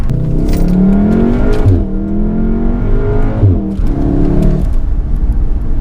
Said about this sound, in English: That sort of fake 5-cylinder style rumble